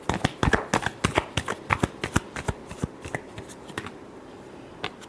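Tarot cards shuffled by hand in quick riffling bursts, a dense run of crisp slaps and flutters that slows and thins into a few scattered taps toward the end.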